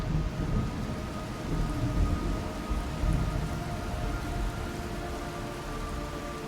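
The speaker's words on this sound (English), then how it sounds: "It's raining blood." Steady, heavy rain in Metal Gear Solid 3: Snake Eater pours throughout with a deep rumbling roar underneath, like a storm with thunder, and a faint sustained tone hovering above.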